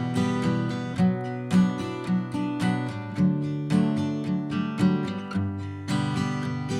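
Acoustic guitar plays a rhythmic, bright strummed pattern with crisp attacks, steady and close throughout.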